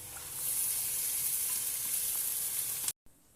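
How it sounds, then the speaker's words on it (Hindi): Hand-pounded minced mutton fries in a pan with a loud, steady close sizzle that cuts off abruptly near the end. "मैंने कीमा डाल दिया है मटन का। तो बस अब इसको अच्छी तरह से हमने भूनना है"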